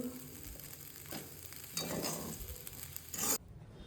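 Vegetables frying in a pan with chopped onion and chilli, a steady close sizzle with stirring scrapes, swelling louder near the end before cutting off abruptly.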